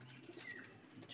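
A Murshidabad Giribaz Khotan pigeon gives a soft, brief coo close by, with a faint chirp-like tone over quiet background.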